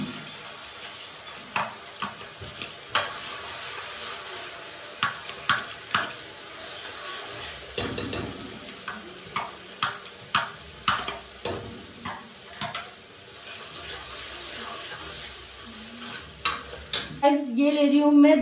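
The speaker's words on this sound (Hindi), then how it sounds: "मैंने ये प्याज चॉप करके रखा हुआ है, तो ये भी ऐड कर देती हूँ इसमें" Chopped onions fry in an iron kadhai at an outdoor picnic spot: a continuous sizzle runs under repeated rhythmic scrapes and clinks of a spoon stirring against the metal pan.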